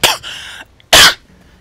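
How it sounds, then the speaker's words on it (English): A person gives a short harsh throat-clearing burst, then one loud, close cough that stands alone with no talk around it. "I had to cough there because my vocal cords aren't used to this."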